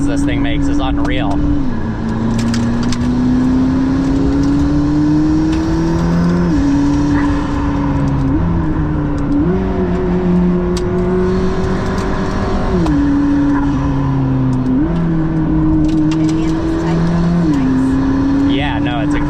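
A McLaren P1 supercar engine revs and shifts up through the gears, pitch climbing and dropping repeatedly, loud and close, with people talking over it.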